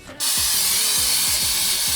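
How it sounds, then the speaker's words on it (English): Cooking spray hisses steadily from a can onto a pan, a sustained close, loud spray starting just after a brief quiet moment and continuing without pause. "Gonna spray the pan with just this cooking spray here."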